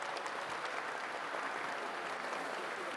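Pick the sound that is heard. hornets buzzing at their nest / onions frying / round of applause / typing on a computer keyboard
round of applause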